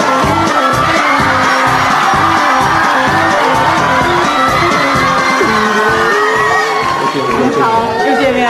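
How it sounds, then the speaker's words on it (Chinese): A large studio audience cheers and whoops loudly for Jay Chou's entrance on a Chinese talk show, a sustained, dense wall of crowd noise with shouts rising throughout. "我们掌声欢迎周杰伦"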